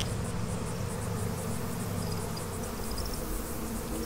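Bees buzzing in the video game Massive Chalice, a dense continuous insect drone that fills the clip at steady loudness without any talking over it.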